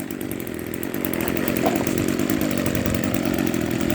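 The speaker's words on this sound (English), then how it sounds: "And there you go, it's running. My completely restored trimmer" A restored Echo string trimmer's small two-stroke engine runs steadily at a loud, buzzing high idle, sustained throughout with no talking.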